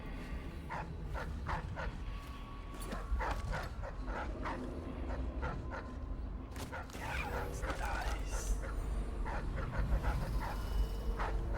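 A dog in the video game Dishonored yips and whimpers in short repeated bursts, moderately close, over game ambience while a person talks.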